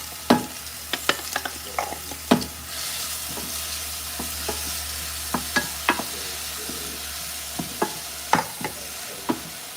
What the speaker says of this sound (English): Sauteing some onions and garlic.